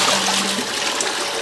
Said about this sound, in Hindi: ये अंदर यहाँ से पानी आता है